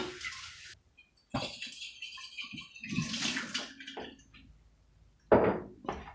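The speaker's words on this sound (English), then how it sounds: "I'm gonna go ahead and give these jars a rinse" Glass canning jars rinsed in a kitchen sink, with bursts of running water splashing and gurgling in short irregular spells between quiet gaps, plus a few light clinks, close and moderately loud.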